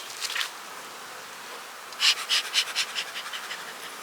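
Honey bees at a colony feeding on syrup buzz close by, a brief hum early on followed by a louder pulsing run of buzzes that gradually fades, with no talking.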